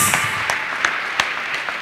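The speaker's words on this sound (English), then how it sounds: "Let us clap our hands beautifully for the Lord Jesus" Congregation clapping hands in praise for the Lord Jesus during a church testimony service, a steady patter of many hands with sharper individual claps standing out, fairly near and continuous for the whole stretch.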